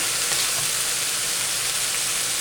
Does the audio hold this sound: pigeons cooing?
no